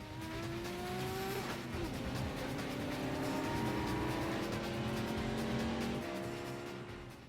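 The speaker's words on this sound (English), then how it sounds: "these cars are going so fast" Fast cars race through a Fast and Furious film scene, engines roaring loud and steady with rising and falling pitch as they speed past, and tires squealing amid the continuous high-speed drive.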